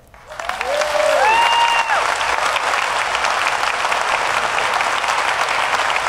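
An audience welcoming General Alexander breaks into applause that swells quickly into steady, sustained clapping, with a short whistle rising above it early on.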